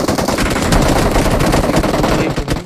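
Gunfire in a video game: dense, continuous automatic bursts crackling without pause at steady, loud volume throughout.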